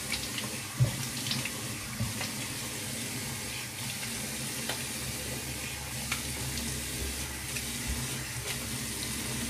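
Tap water runs steadily into a sink as a cheap double-edge safety razor is rinsed, a close, continuous splashing flow with a few small clinks over about ten seconds.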